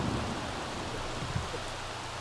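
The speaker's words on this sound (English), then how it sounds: "It's raining outside," Steady rain falls outdoors in the video game The Sims 3 (Island Paradise), a constant hiss heard alone without talk.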